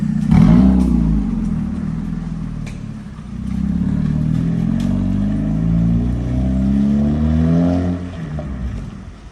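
A 1.8 Honda Civic Type S fitted with a Martelius cat-back exhaust revs up close by, its deep droning note rising and falling through repeated throttle blips, loud and alone.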